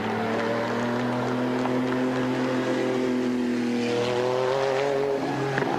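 A Porsche GT2 race car at a 1995 BPR Global GT Series event in Monterey drives round the banking, its engine giving a loud, steady high-pitched drone that sweeps in pitch as it passes and then slowly fades.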